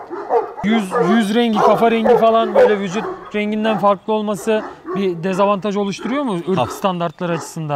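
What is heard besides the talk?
12-year-old Kangal dog named Garip barking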